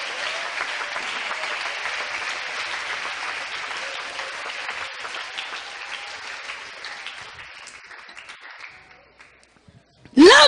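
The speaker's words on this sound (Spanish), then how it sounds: "Oh, si ese aplauso es para él," A church congregation at an IPUC sermon applauds strongly, a sustained, dense roar of clapping that gradually thins and fades toward the end before a brief loud bump closes it.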